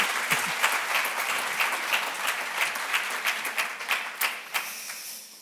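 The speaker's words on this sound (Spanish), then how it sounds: "Un aplauso para Jesús Callejo." An audience at a talk applauds a speaker, a crisp, continuous round of clapping with individual claps standing out, gradually thinning as it winds down.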